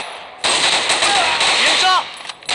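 A T91 assault rifle fires in a first-person shooter video game: loud, rapid automatic bursts rattle almost continuously for about a second and a half, then stop abruptly.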